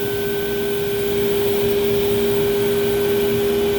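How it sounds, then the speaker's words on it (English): A Leister banner heat welder's vacuum table runs as a constant, close, even whine and airy roar with a steady tonal hum, unbroken and with no talk. "the Leister is riding in its own guide track, the vacuum table has the banner"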